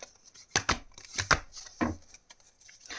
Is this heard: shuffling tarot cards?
yes